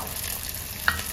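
Rice sweet appam fries in hot oil, giving a steady close sizzle and bubbling throughout with one brief bright pop near the end.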